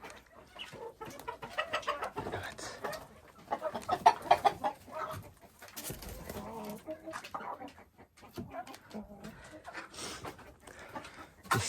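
Hens in a backyard coop, settling down to roost, give scattered, uneven clucks at close range, mixed with rustling and low murmuring noises throughout.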